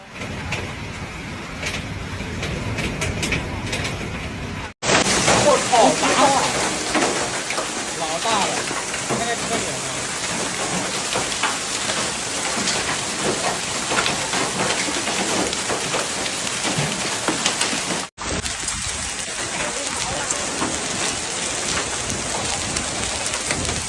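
Heavy rain and hail pound down in a dense, continuous roar during a sudden storm in Beijing, with traffic noise mixed in and a voice speaking over it in places.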